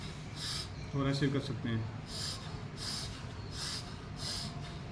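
Bhastrika pranayama breathing: a series of about six forceful, rhythmic breaths pulse at a steady pace, close to the listener. A voice briefly speaks between the early breaths.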